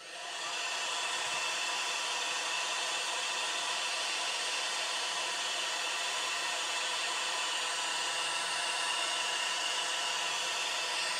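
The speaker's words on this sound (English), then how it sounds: "can you still hear me talk while I use the hairdryer?" A hair dryer blows steadily to dry paint on model trucks, a constant close whooshing roar with no breaks and no voices over it.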